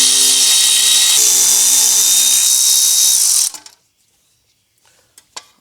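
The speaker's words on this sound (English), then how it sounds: "There's 3 bolts here, here, and here that you unscrew and the dust cover will come off" A power tool whirs loudly and steadily for about three and a half seconds, unscrewing the dust cover bolts at the wheel hub of a Mercedes W212 E63 AMG, then stops, leaving a few faint clicks and taps.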